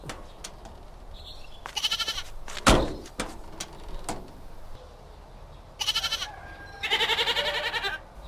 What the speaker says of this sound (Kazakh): Хау, bu ne? Ешкі ғой.